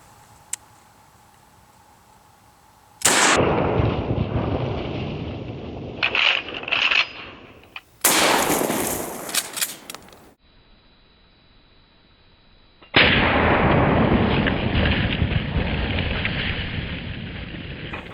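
Full-power handgun rounds, around 1350 feet per second, fired at a NIJ Level II body armor vest outdoors. Sharp loud reports with long noisy decays come in separate bursts, with a quiet gap between them.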